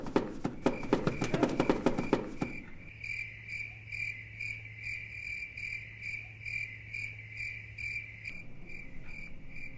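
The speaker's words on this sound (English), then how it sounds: "They just make the sound of crickets." A jar of crickets chirps steadily in a quiet room, a close, regular pulsing trill that carries on alone after a burst of louder rhythmic tapping at the start.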